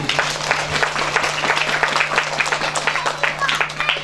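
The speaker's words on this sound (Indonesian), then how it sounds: "Beri tepuk tangan Bapak Ibu" Audience applause at an Islamic school graduation and haflah ceremony, a dense steady patter of many hands clapping for the full stretch with a low steady hum underneath and voices mixed in.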